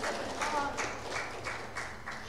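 A small online or gathered audience claps at a spiritual service after a sung piece, a dense patter of hand claps sustained throughout, moderately close and steady with no voices over it.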